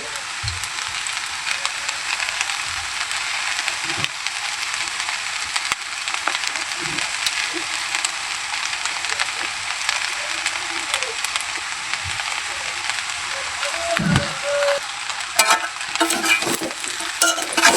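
Sauce added to pasta with winter vegetables and stirred in a hot pan, producing a continuous bright sizzle with occasional soft scrapes and clinks, close and fairly loud, with no voices.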